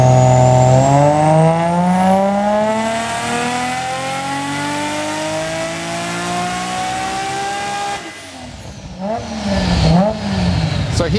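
A turbocharged car engine on wastegate-spring boost control, loud and close, revs steadily upward in one long pull, then drops off and settles into uneven lower engine noise.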